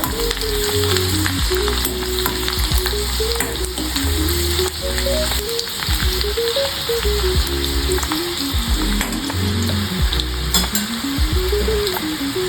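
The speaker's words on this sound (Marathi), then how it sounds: "आता आपण पाच ते सहा लसणाच्या पाकळ्या ठेचून टाकणार आहोत लसूण छान गोल्डन ब्राऊन होईपर्यंत आपण त्याला फ्राय करून घ्यायचं" Five or six crushed garlic cloves frying in hot oil for an Aagri-style prawn masala curry, a loud steady close sizzle with occasional spoon scrapes and clinks against the pan, while background music plays throughout.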